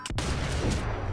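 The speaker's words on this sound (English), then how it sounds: "They shoot him." Sniper rifle gunshot from the video game Sniper Elite 4, a single loud sharp crack followed by a rolling, reverberant boom, heard alone.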